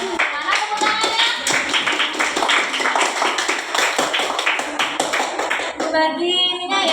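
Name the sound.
children clapping hands in class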